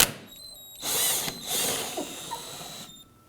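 A power tool spins on a rear lower control arm bolt of a 2008-2011 Ford Focus, two short whirring bursts with ratcheting clicks between them, close up in a quiet workspace.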